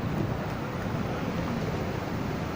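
Strong gusting wind from Cyclone Vardah in Chennai batters the microphone, a loud, unbroken rushing roar throughout with no voices heard.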